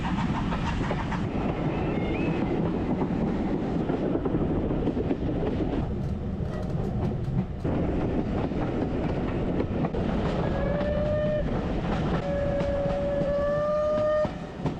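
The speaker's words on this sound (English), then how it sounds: "The train is set to run non-stop all the way to Swanage" Swanage Railway heritage train running non-stop toward Swanage, a steady continuous rumble of wheels and carriage noise throughout, with a couple of rising whistle-like tones near the end.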